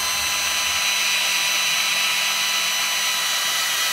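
A power drill enlarging a hole in the plastic of a full face mask whines steadily and loudly throughout, a continuous high-pitched grinding with no pauses or voices.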